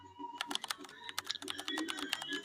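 Rapid clicking of a computer keyboard as a text prompt is typed, with irregular bursts of keystrokes close by and no one talking.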